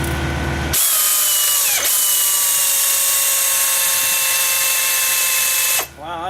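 A power drill whines at high speed against a stubborn metal part on a sweeper, a loud sustained tone that starts abruptly, runs nearly six seconds with a brief dip, then cuts off and winds down.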